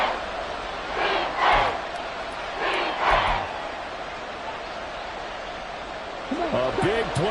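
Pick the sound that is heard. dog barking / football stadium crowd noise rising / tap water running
football stadium crowd noise rising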